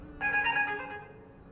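A short melodic phone text-message notification chime rings out clearly for about a second, bright and close, with its sustained tones fading away and no talking over it.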